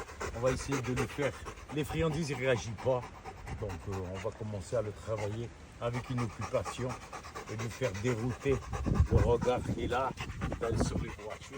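A reactive, overprotective rottweiler pants steadily in rapid breathy bursts close by, heard beneath someone talking continuously.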